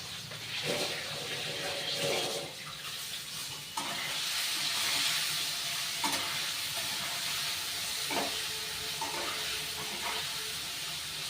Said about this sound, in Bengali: আলুটা আমি বেশ লাল লাল করে ভেজে নেব।